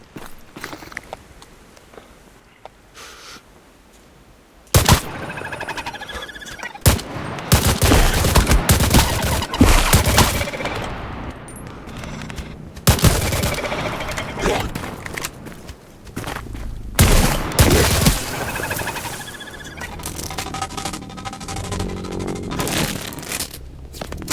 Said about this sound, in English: And now there's gunfire. There's someone shooting.